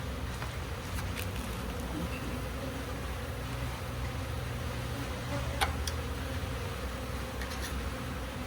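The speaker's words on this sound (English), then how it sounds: "There's a lot of bees still hanging around on here." Honey bees buzzing around a hive on newspaper, a continuous low droning hum of many bees close by, with individual bees occasionally flying past.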